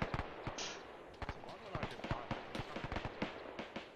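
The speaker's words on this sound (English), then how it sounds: "Sounds like a lot of gunfire." Rapid, sharp bursts of gunfire crackle repeatedly in a military video game, dense and irregular at moderate distance, with brief vocal sounds mixed in.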